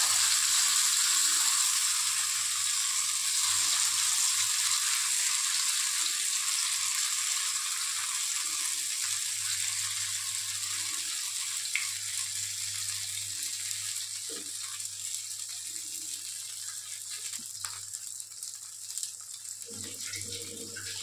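Food frying two pieces at a time in a covered pan, giving a steady, loud hiss and sizzle that runs throughout with only slight variation.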